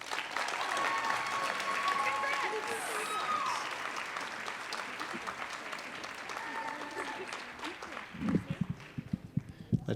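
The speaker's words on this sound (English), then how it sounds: "Let's give one more round of applause to Tara" Audience applause for an award recipient at a city awards ceremony fills the hall as a steady, moderately distant clapping wash that thins out near the end into a few scattered claps.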